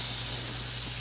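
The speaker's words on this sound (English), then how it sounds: "And you might be able to hear them sizzle." Turkey thighs laid skin side down on a very hot grill sizzle with a loud, steady hiss that stays constant and close throughout.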